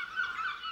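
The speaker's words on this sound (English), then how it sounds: "It sounded like a bird. A bird? Are you sure? I've never heard a bird like that before. That's because it normally lives by the sea. Seabird? A seagull." A single bird call rings out alone in a short, nasal, honking cry, faint and clear in a mild outdoor setting, meant as a seagull.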